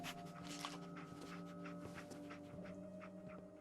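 A dog pants rapidly and rhythmically in the Fallout 4 video game, close and steady against a constant tonal background hum, with no talking.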